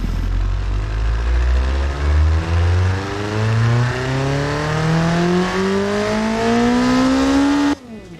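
A simulated car engine in the Automation video game revs in one long, smooth climb from a low drone to a high whine, then cuts off abruptly near the end.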